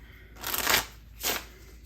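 Playing cards being shuffled in two quick riffling bursts, close by, with a short pause between them.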